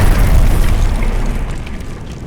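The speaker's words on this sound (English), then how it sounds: "That was a lot of explosions." Explosions in the Heart of the Machine video game roll out as a loud, deep booming rumble that fades gradually over two seconds.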